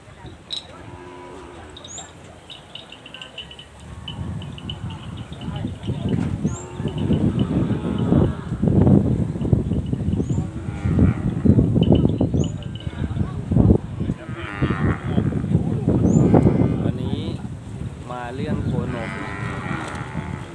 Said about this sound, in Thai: ตอนนี้ตลาดวัวเนื้อก็กำลังดีอยู่ครับ